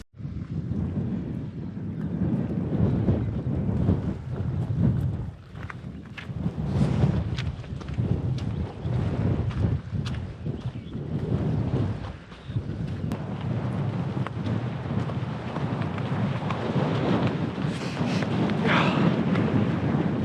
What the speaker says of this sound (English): Still windy and a bit of drizzling